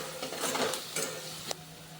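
Ginger-garlic paste sautés with onion in a pan for home-made pav bhaji, giving a soft, low sizzle. A few spatula scrapes and a light clink sound nearby, all faint and without speech.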